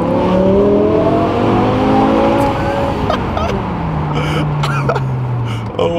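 BMW M5 on Michelin PS4 tires accelerating hard, a loud close engine rising through the gears with sweeping pitch climbs and a shift, continuous and full for the whole stretch, with faint voices over the top near the end.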